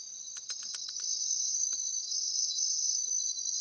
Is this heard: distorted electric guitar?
no